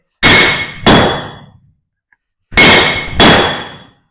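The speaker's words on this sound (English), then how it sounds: "Use that bounce off the anvil, and that will save your arm." Hammer blows on a bolt resting on a blacksmith's anvil ring out in two pairs of sharp, bright clangs, each strike followed by a quick bounce and a short metallic decay, with a pause between the pairs.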